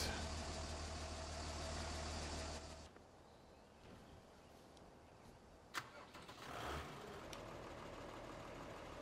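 A tractor engine in the farming game Farming Simulator 15 cranks and fires, a loud rough start that settles into a quieter idle, with a sharp click and brief revving later on.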